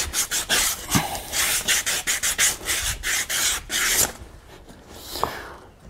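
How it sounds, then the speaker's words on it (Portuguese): A horse's hoof being rasped smooth during trimming and shoeing, a close series of rough rhythmic rubbing strokes that stop near the end, leaving a quieter stretch with a faint knock. "passar uma lixa para poder deixar mais liso o casco"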